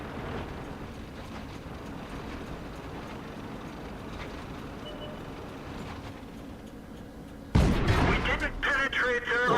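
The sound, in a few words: tank shell bouncing off armour in video game World of Tanks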